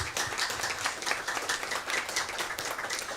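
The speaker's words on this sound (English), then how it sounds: "Let's have some round of applause." An audience applauds special guests at an LGBTQIA+ panel discussion, giving dense, steady clapping at moderate volume that continues for a few seconds with no voices over it.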